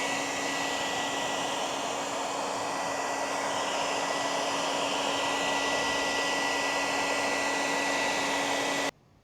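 A heat gun blows steadily and loudly, drying moisture from the edges of protective film on Tesla headlights, holding a constant whine and airflow rush before cutting off abruptly near the end.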